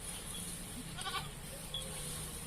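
A goat bleats once, briefly and faintly, over a steady background hum.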